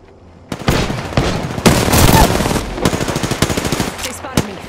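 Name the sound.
gunfire at player in Apex Legends video game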